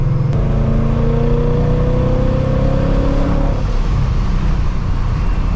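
A 700 wheel-horsepower Ford Mustang accelerating hard, its engine droning loudly and rising in pitch before easing off near the end, heard from inside the car.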